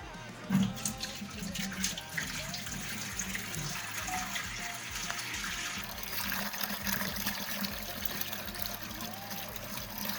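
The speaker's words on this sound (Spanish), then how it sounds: "A continuación vamos a proceder a trasladar el agua de un balde a otro." Water poured steadily from one bucket into another to add load during a test of a noodle bridge, a continuous rushing trickle lasting several seconds with faint background noise.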